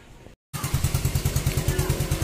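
A GY6 scooter engine runs after a short dropout, idling with a steady pulsing putter and light mechanical clatter, close and fairly loud.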